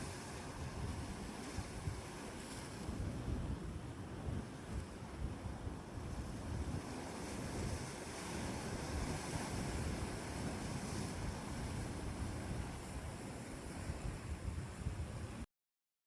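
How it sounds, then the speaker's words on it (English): Waves break on a beach of very blue water beside rocks in Australia, a continuous churning roar with gusts of wind buffeting the microphone throughout. "If you guys like beach sounds,"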